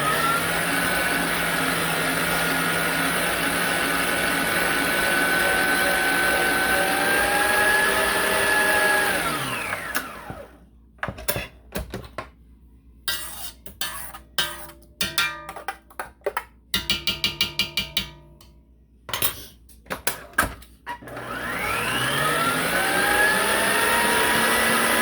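An electric mixer beats two large eggs with evaporated milk for a pecan pie filling: a steady, close whirring drone that cuts out midway into bumps and clatter, then starts whirring again near the end, with no talking.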